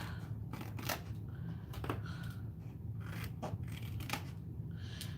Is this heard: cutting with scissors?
yes